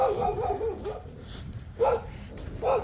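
Dogs bark at a pig farm in Tonga in a rainy, puddled setting, with a few separate barks and yips spaced across the clip at moderate distance.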